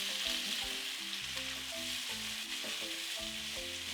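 Diced yellow onions hit browned pork in a pot for a pork and potato stew, making a dense, constant sizzle up close with a low tonal hum beneath, no voices.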